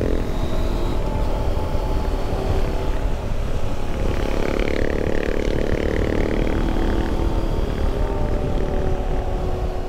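A propeller plane drones overhead, a constant engine rumble with a rising and falling tone in the middle, loud and unbroken.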